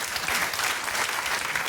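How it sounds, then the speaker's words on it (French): An audience at a live comedy show applauds steadily and loudly, a dense wash of clapping throughout with no talk on top. "on peut les applaudir"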